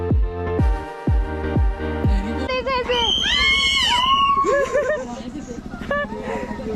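People on a trek in Dhanolti scream in fear, with shrill rising and falling cries that swell loudly over a jumble of other voices and talk.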